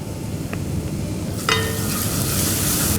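Onions and masala with coriander and cumin powders sauté in a pan for chicken frankie filling. A loud, close, steady sizzle swells after a brief clatter partway through.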